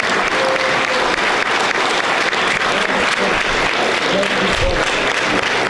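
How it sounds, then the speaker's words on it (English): Loud, dense applause fills a hall for a couple honoured at a Cypriot community gathering, steady throughout with crowd murmur and occasional voices mixed in. "Round of applause for Ευριπίδης and Ευαγγελία Κοντός"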